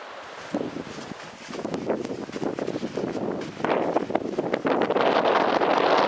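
Strong wind gusting across a high mountain slope above 4000 metres on Illiniza Norte, Ecuador, buffeting the microphone with loud, rough roaring that swells and grows harsher toward the end.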